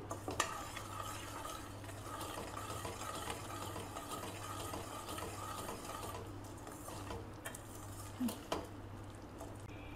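Dal being stirred in a pan for a sweet idly coconut-jaggery filling, a soft continuous scraping and shuffling with faint utensil clicks over a low hum, quiet and close, without speech.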